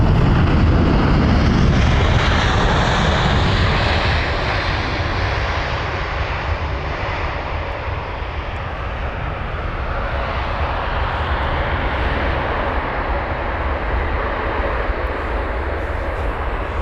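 Loud WestJet Boeing 787-9 Dreamliner on arrival from Calgary at London Heathrow, a heavy jet roar that swells close by in the first seconds, then settles into a long steady rumble and whine as the aircraft rolls out.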